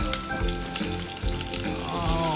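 Beef stir-fried in a pan for a salted mustard greens soup sizzles and crackles steadily up close, with faint stirring scrapes and no talking.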